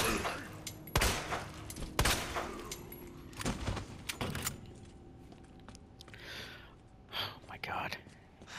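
Gunfire in the Resident Evil 2 remake, several sharp, separate shots spaced about a second apart, followed by quieter rustling and breathy sounds.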